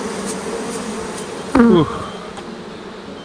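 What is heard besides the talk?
honey bees buzzing around hive frame during harvest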